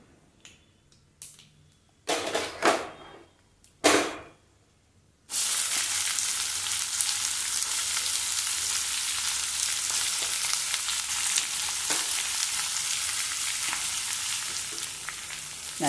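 After a few sharp crackles and pops, a loud, steady sizzle of chopped carrots hitting hot oil fills the pan, continuing without pause.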